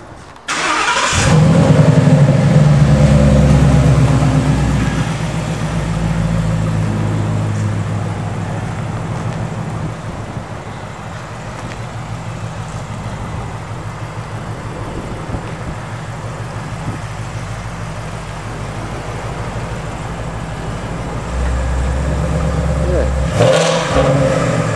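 A Ford Mustang GT engine cranks and fires up loudly close by, settles into a deep rumbling idle for a long stretch, then swells again with a rev near the end, with talk around it.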